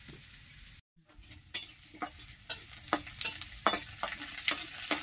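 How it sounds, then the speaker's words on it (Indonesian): Oyster mushrooms stir-fried in a handle-less wok with ginger, lemongrass, shallots, garlic and spices, a steady close sizzle under repeated scraping clicks of the spatula, no talk. "kita useng dulu jamur yang kita masak tuh"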